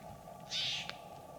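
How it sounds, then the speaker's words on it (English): A single faint, brief bird call rings out against a quiet outdoor hum in mountain forest near a lake, followed by a tiny click. "Just some upset birds."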